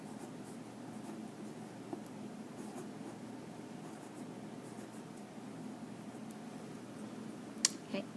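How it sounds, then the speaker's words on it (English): Pencil writes a name on a small sheet of paper: a quiet, continuous scratchy scribble close to the microphone over a faint room hum, ending with a couple of sharper taps. "write your name"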